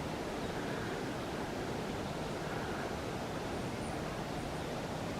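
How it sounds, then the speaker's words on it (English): Broad steady rush of a river flowing at the base of mountains, heard alone as a constant, fairly faint wash without speech. "if you're quiet, you can hear the river"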